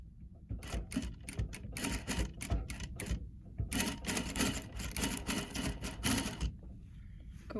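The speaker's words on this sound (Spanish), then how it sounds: "vamos a pegar esta pieza aquí a la manga y empezamos a coser" A sewing machine stitching a fabric piece onto a jacket sleeve makes quiet, fast, clattering needle runs in several short bursts with brief pauses between them.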